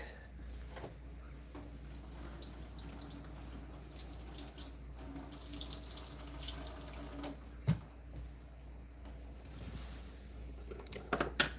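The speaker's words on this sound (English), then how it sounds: "I think I'm gonna rinse this again real quick." Running water from a tap splashing steadily into a sink while a Mora knife is rinsed, with a few faint knocks and clinks near the end.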